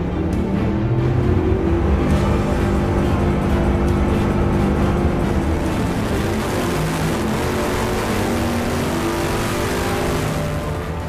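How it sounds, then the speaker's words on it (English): A Bugatti Veyron engine runs at full throttle on a test stand in Wolfsburg, Germany: a dense, steady, roaring drone that stays loud and unbroken throughout, close up, with no voices. "workers run the engine at full throttle for the very first time"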